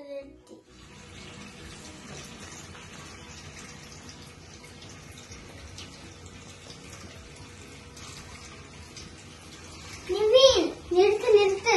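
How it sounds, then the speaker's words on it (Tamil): Water runs steadily from a tap left on indoors, a continuous close hiss of flowing water throughout, with children's voices breaking in loudly near the end. "நிர்மின், நிறுத்து நிறுத்து, தண்ணியை வீணாக்காத"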